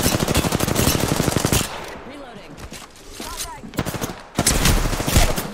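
Loud, rapid automatic gunfire in the video game Apex Legends, with dense bursts that pause briefly and then resume. Game sound effects and faint voices sit underneath.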